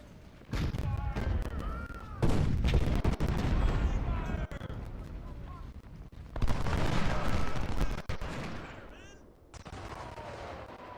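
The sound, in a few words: musket and artillery fire in Ultimate General: Civil War video game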